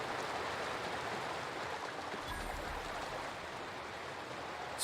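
A waterfall in the video game The Outer Worlds pours as a constant broadband rush of falling water, steady and full, heard alone without talk.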